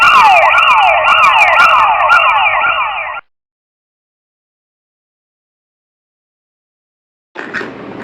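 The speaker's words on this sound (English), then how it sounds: "Do you know how a police car sounds?" A police car siren wails loudly and continuously for about three seconds with rising and falling sweeps, then cuts to silence before a brief burst of noise returns at the end.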